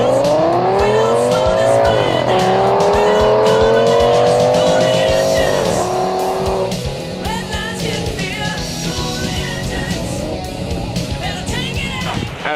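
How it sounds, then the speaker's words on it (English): Race cars slide sideways through corners on a slick, wet track, engines roaring loudly and steadily with rising and falling pitch and squealing tires, the snarl easing toward the end. "These drivers are going to definitely be roaring into the corners sideways with very slick racing conditions"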